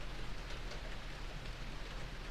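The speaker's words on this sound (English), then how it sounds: "can everybody hear the rain?" Steady heavy rain pours down during a thunderstorm, a dense continuous hiss of drops on surfaces with no voices or distinct thunder claps, filling the whole stretch evenly.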